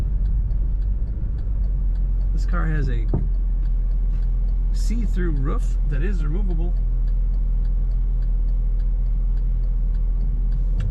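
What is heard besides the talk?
1995 Chevrolet Corvette coupe driving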